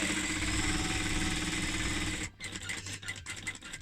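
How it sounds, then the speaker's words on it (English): A sewing machine stitching a fabric face mask runs with a steady, close mechanical whir, then shifts into a choppier, stuttering rhythm of short stitching bursts as the fabric is turned and back-tacked. "Cover it and sew."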